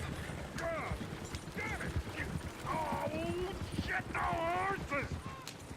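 Horse hooves clip-clopping in Red Dead Redemption 2, a steady rhythm of close hoof strikes with whinnying and animal cries layered over it, under busy background talk.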